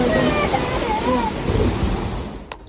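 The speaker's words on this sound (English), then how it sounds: "On the rooftop, a pool began sloshing violently, sending waves of water spilling over the edges." Water in a rooftop pool sloshes hard during an earthquake, a loud continuous rushing wash with wind buffeting the microphone and a sharp knock near the end.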